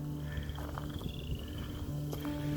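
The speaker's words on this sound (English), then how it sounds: "And I'm already hearing frogs." Frogs croaking in early spring in Missouri, a steady chorus of calls with repeated trilling pulses, moderately distant and continuous in a quiet outdoor setting.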